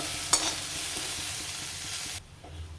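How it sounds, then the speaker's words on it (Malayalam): Onion, garlic and curry leaves frying in oil in a pan while being stirred, a close steady sizzle with one sharp spatula clink near the start, then cutting off abruptly into quiet, with no talk. "അപ്പം നമ്മുടെ സവാള വെളുത്തുള്ളി കറിവേപ്പിലൊക്കെ മൂത്ത് വന്നു"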